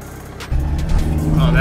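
A lifted, stretched Jeep TJ on coils and tuned shocks pulls away down a road, its engine rising in a low steady hum after a brief quieter start.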